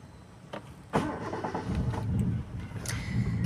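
A car engine starts near Golaghat, Assam: a faint idle gives way to a sudden cranking catch, then a steady, rumbling idle that keeps running close by.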